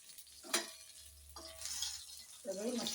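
Quiet sizzling of fish frying in oil in a pan, Malvani style, with soft scraping and clinks of a utensil against the pan in short bursts.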